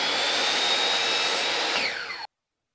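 A drill boring pocket holes into wood for a small headphone stand, a steady high whine held for about two seconds that drops in pitch as it spins down, then cuts off into silence.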